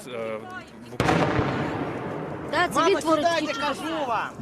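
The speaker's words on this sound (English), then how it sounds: "You can hear the artillery. That is outgoing fire from Ukrainian forces." Outgoing artillery fire from Ukrainian forces, a single sharp heavy boom that rings out and decays under ongoing speech, with voices talking before and after it.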